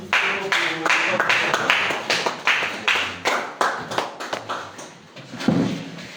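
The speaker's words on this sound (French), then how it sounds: "Est-ce qu'on peut applaudir" Audience clapping at a concert-style presentation, a loose rhythmic patter of hands with distinct sharp claps and thuds, fairly close, with some background murmur.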